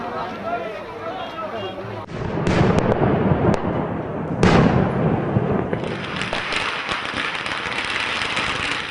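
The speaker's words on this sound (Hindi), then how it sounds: "आसमान में होती आतिशबाजी" Diwali fireworks burst in loud, crackling bangs over a busy festival market, starting after a moment of voices and continuing as dense, overlapping pops and rumbling blasts.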